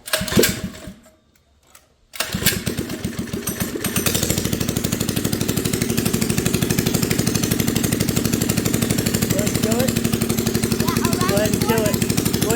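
Small homemade go-kart engine pulled with a starter cord, a brief sputter and pause, then firing up and running at a loud, fast, rapid-knocking idle that stays steady and close through the rest of the clip.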